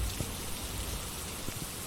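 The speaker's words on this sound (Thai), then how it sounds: "ฝนก็ตก" Steady rain falls in the horror video game Phasmophobia: a continuous broadband hiss with scattered, sharper droplet taps, and no voices over it.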